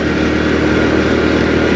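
A 2022 Honda CD 70 motorcycle is ridden during engine break-in, its small single-cylinder engine giving a steady, close buzzing drone with wind rush and no pauses.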